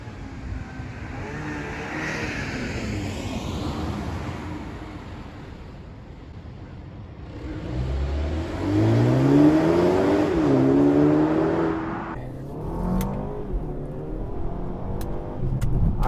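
A 2022 BMW X2 small SUV engine revs up and accelerates hard, a rising whine and roar sustained for several seconds after a quieter stretch of steady running, then easing off near the end.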